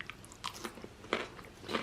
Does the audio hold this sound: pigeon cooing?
no